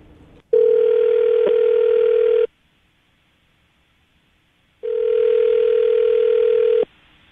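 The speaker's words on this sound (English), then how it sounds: "All right, Anthony, I'm going to call her right now" An outgoing telephone call rings back twice, each ring a steady two-second electronic tone with a quiet gap between them, clear and close with no talking.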